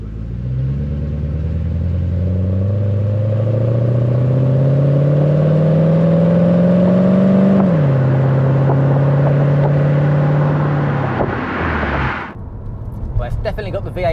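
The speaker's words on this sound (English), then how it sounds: "Well, it's definitely got the V8 rumble back there." A loud Porsche 928 S4 V8 engine revs up steadily, pitch climbing, then drops and holds a deep rumble before cutting off abruptly near the end.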